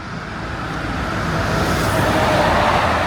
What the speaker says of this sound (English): Noisy lorry.